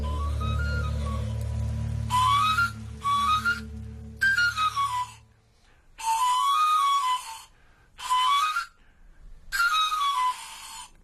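A knife grinder's pan flute whistle, bright and multi-note, rising then falling in quick runs, repeats in six separate bursts with short gaps, over a low hum that fades early on.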